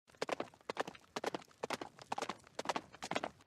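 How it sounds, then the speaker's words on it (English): A horse galloping sound effect, used for a walking creature, plays as a steady close clip-clop of hooves in repeating groups, clear and alone. "I used a horse galloping sound effect when Cabalion was walking."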